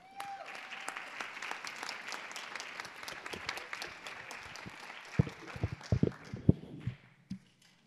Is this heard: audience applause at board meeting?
yes